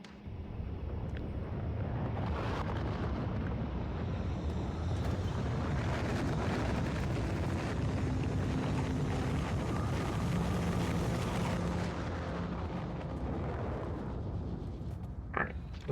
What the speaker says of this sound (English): While I'm getting started, I may as well send some rockets up.